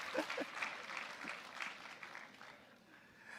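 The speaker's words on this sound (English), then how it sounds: "Please, a round of applause." An audience claps steadily, a dense, moderately loud round of applause that gradually thins and fades toward the end.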